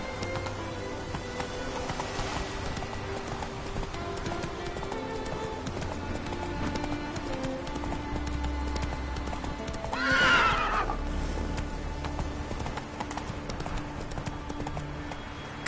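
Horse galloping in The Witcher 3 video game, a steady rapid clip-clop of hooves with a loud neigh partway through, alongside background game sounds.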